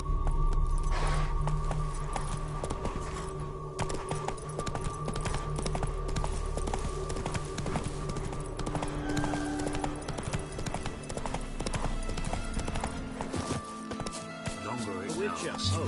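Hooves of the horse Roach in a video game clip-clop at a steady walking pace, close and clear beneath game characters talking, with background ambience throughout.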